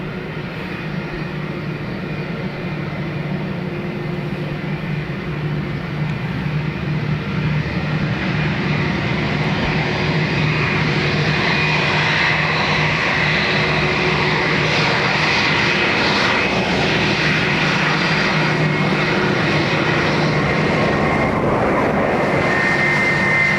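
Aircraft engines at Dublin Airport give a loud, steady broadband roar that builds slightly and holds for over twenty seconds, with no voices over it.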